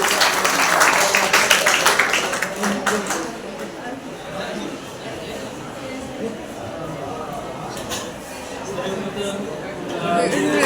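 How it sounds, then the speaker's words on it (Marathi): Audience applause at a school Guru Purnima gathering, a burst of dense clapping for the first few seconds that fades into murmuring chatter and room noise, with a smaller swell of claps near the end. "टाळ्या वाजवा की"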